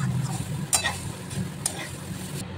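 Chow mein noodles being stirred and tossed in an oiled pan, a soft continuous sizzle with a few sharp scraping strokes of the spatula against the metal.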